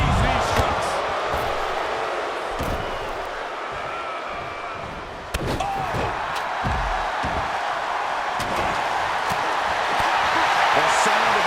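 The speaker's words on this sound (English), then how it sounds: "The sound of this crowd is deafening, and he's asking for more" A loud wrestling arena crowd roars and cheers continuously, with a sharp slam partway through and an announcer talking over the din.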